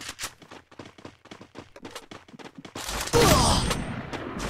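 Rapid gunfire from the Free Fire video game, with a string of sharp shots that builds into a louder, denser burst toward the end.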